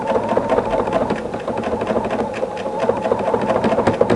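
A sewing machine zigzag stitching yarn couched onto a quilt binding, running steadily through thick layers with a busy, continuous mechanical whir and rattle for the whole stretch, close and fairly loud.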